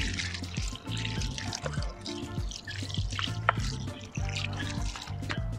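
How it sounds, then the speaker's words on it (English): Water runs and drips into a pot while a Pharaoh's Mask plant is being repotted, a steady close trickle with splashy drips throughout and no talk. "And then I will fill it up with water"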